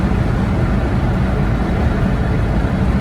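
Loud, steady engine drone and road rumble fill the cabin of a 1973 Volkswagen Type 2 panel van cruising at highway speed, with wind noise throughout and no speech.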